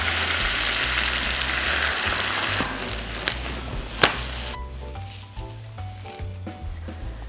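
An egg omelette fries in a pan for a mini rice roll dish, giving a steady close sizzle that drops off partway through, leaving quieter crackles and a few light clicks.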